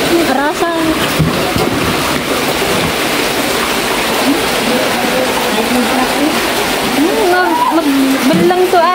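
Floodwater rushes loudly and steadily through a house in Mindoro during Typhoon Opong, a continuous splashing roar with voices talking over it throughout.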